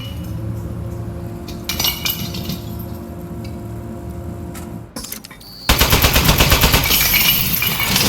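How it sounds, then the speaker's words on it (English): A robotic turret shatters in the video game Aperture Desk Job, with a loud burst of glassy breaking and rattling clatter near the end, following quieter mechanical hum and clinks. "Oh, man, the turret broke"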